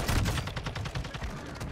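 Rapid automatic gunfire in Warzone on Ashika Island, a loud close burst of evenly spaced shots running continuously for under two seconds.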